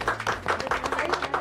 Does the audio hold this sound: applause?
yes